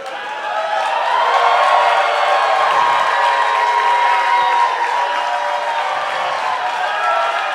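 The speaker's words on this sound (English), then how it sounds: "This is, respectfully, the worst entrance applause I have ever heard in my fucking life." Studio audience at a comedy talk show clapping and cheering for a guest entrance, a loud continuous roar of applause with whoops, steady for several seconds.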